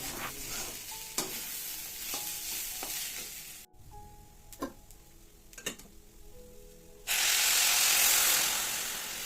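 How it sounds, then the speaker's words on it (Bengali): Rice for pulao fries in a pan with a close sizzle and a rhythmic series of ticking scrapes from stirring, then a sudden loud, steady hiss takes over for the final seconds. "চালটা দিয়ে কিন্তু কিছুক্ষণ ভেজে নিতে হবে"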